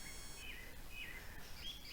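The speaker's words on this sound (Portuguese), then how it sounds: "Não sei se tá dando pra ouvir o passarinho," A bird sings faintly in a forest near a small stream, with a few thin high chirps and short whistled notes over a soft, steady background hiss of running water.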